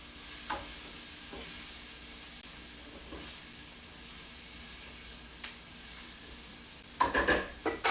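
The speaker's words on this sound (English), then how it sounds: "So we're sauteing our peppers and our onions." Peppers and onions sautéing in a pan for steak tacos give a low, steady sizzle, broken by a few faint utensil taps and louder clattering scrapes near the end.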